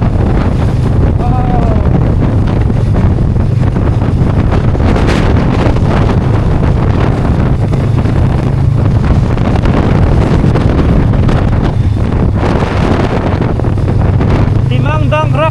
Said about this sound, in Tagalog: Tinatulak tayo ng hangin papunta dito.